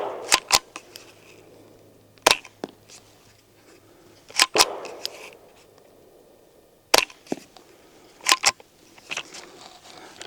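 A suppressed semi-automatic rifle fires subsonic rounds, cycled by hand between shots: a handful of sharp, dry cracks spread across the clip, some with a quick metallic follow-up, each short and clean against a quiet outdoor background.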